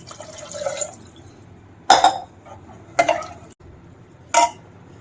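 Water poured into a cooking pot of frying tomatoes in short splashy pours, three distinct bursts of liquid hitting the pan, close and fairly loud against a quiet kitchen.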